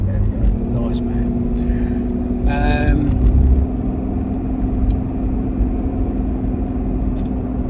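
A broken early L322 Range Rover limps along with a steady, loud engine drone and road roar, no clear rise in revs, while someone talks over it.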